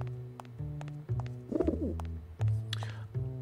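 A pigeon in the video game Grim Fandango coos in several soft, low, repeated calls, heard close and clearly over a steady musical backdrop.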